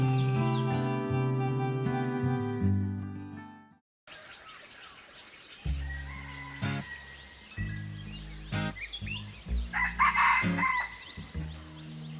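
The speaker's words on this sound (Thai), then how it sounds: "ตอนนี้เงียบมากแต่จะมีเสียงนกกับไก่บ้านนั่นแหละ" In a mountain forest near Ban Na Ton Chan village in Thailand, a rooster crows with a long, loud call. Scattered birds then chirp and tweet nearby in short, irregular bursts.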